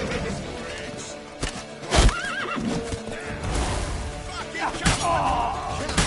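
Horse neighs loudly in a video game while frantic voices shout over it, with clip-clopping hooves and thumps in the busy mix.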